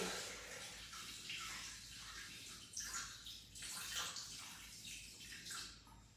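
Water is poured or run into a cooking pot for steaming, a soft continuous splashing and trickling that swells and dips. It is close but quiet, and no one speaks.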